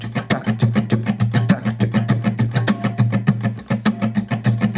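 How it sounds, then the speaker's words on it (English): Steady down-up scratch strumming on an acoustic guitar with the fingers resting on the strings, producing dense percussive muted strokes with a low held tone beneath, close and loud, without talk. "create a scratch sound like this. So you just rest your fingers against the strings."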